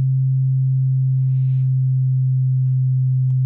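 An Arturia Synclavier-V FM synth tone with a very slow modulator, holding a loud, steady pure low tone that barely wavers in pitch over a few seconds.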